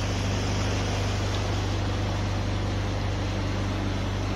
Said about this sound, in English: The engine noise isn't too intrusive at all, really.